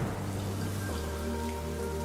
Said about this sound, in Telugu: ఇక్కడ చాలా వర్షం పడుతుంది